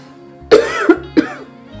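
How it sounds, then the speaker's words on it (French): Two sharp, close coughs, one right after the other, from a single person who is falling ill, in an otherwise quiet room. "Dès que je parle, je tousse."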